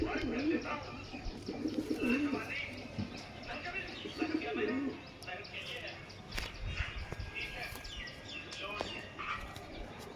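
A young pet pigeon cooing in low, soft bursts close by, with a person talking over it and some chirps and knocks in the background.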